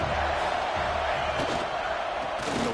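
Football stadium crowd roaring steadily through a Washington vs Notre Dame college game on third down, a dense, loud wash of cheering that stays constant throughout with no distinct voices standing out.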